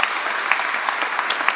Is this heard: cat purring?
no